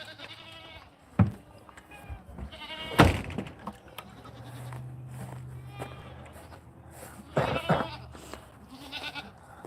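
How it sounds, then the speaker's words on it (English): A young goat bleats several times at close range, the calls scattered among footsteps and shuffling on a farm, with people talking nearby. "actually a young goat"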